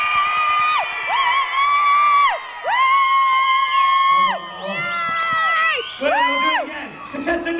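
A holiday camp audience at Pontins Southport cheers and screams for a contestant, loud sustained shrill voices rising in waves with whoops and shouting, children among them.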